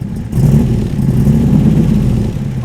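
A car exhaust revs through its mufflers with a loud, rough, low droning rumble that holds steady for a couple of seconds, heard alone.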